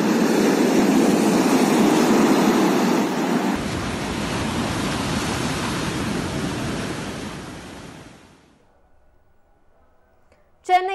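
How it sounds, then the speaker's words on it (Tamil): Rough sea surf pounding the shore at Chennai during Cyclone Nivar, a loud continuous roar of breaking waves with wind noise that drops away abruptly near the end, leaving near silence. "சென்னை, காசிமேடு, எண்ணூர், திருவற்றியூர் உள்ளிட்ட பகுதிகளில் கடல் சீற்றம் அதிகரித்து காணப்படுகிறது"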